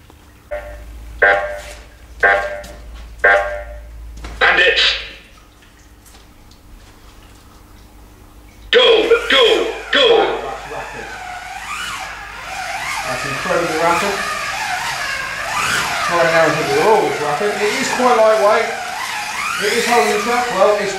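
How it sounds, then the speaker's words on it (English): A Scalextric VW Beetle slot car on the track: a few short mechanical whirring bursts, then a loud continuous buzzing electric motor whine rising and falling as it laps, with someone talking throughout. "So let's stick it on the track and see what it can do."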